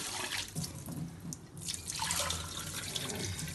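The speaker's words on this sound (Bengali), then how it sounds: "চাউলটাও ধুয়ে নিব।" Tap water running steadily into a sink as rice is washed in a home kitchen, a continuous close splashing rush with slight swells and no voices.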